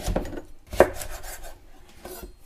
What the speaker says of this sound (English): Cut your orange into slices.